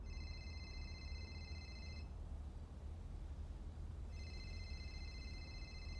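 A phone ringing inside the NoPixel GTA roleplay game, a steady electronic ring pattern heard in two bursts with a gap between them, over constant low game background rumble.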